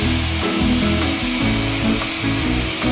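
A Ridgid 18V cordless jobsite blower whirs steadily as it clears sawdust, with a rough, pulsing airflow roar and slight surges in pitch, loud and close with no talk.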